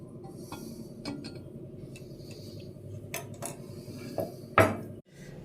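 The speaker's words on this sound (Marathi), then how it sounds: "गॅस पेटून घेऊ. तवा गरम करायला ठेवू." A metal griddle set down on a gas stove for making paratha: scattered metallic clinks and scrapes, then one louder clank near the end before a brief hush.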